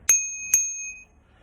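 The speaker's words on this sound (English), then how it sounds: "So the first thing is a little bell," A small handlebar bell for a Bogist C1 Pro electric scooter is rung twice indoors, two bright close metallic dings about half a second apart, the second left to ring out and fade over about half a second, with no talking.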